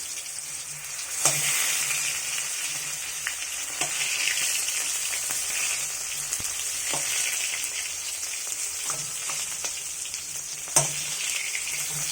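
Tomato goes into a hot frying pan with a steady bright sizzle and crackle, plus occasional clicks of stirring, close and alone without talk.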